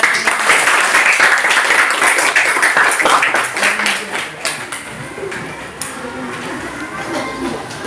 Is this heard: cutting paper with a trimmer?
no